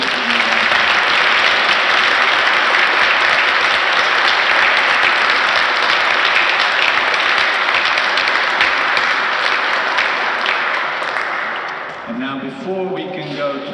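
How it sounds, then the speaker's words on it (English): Sustained, dense applause from a large audience honoring three guests at a cultural event, loud and steady for about twelve seconds before tapering off as a voice begins speaking near the end. "I want to ask you now to give a warm applause to"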